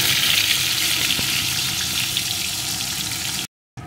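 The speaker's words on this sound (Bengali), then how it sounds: "পটলগুলোকে প্রথমে এর ভিতরে দিয়ে ভেজে নেব।" Slit pointed gourds fry in hot oil for a stuffed dorma, giving a loud, steady close-up sizzle that cuts out briefly near the end before resuming.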